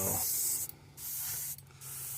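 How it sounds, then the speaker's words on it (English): An airbrush sprays orange paint at low air pressure onto a custom S crank, giving a steady close hiss that cuts out twice in short breaks between bursts. "don't need a lot of air pressure, for this airbrush paint, because it sprays really, really good"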